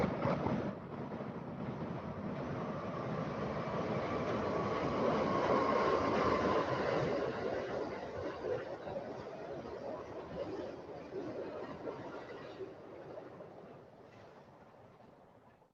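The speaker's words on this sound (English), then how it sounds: "we got a train coming." A train passes near a lake, a broad rumbling roar that swells over several seconds, holds steady, then slowly fades, with no talk over it.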